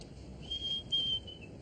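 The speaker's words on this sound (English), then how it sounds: "Even whistle in a carefree manner." A person whistles casually while walking, two short sustained high tones in the middle over a low background murmur, fairly faint.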